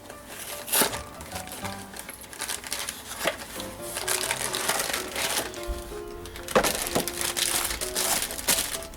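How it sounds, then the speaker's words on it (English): A cardboard cake mix box is pried open by hand, giving close, irregular crinkling, tearing and rustling bursts of paper and cardboard spread over several seconds, with no talking. "Next up is the cake mix. If I could get the box open."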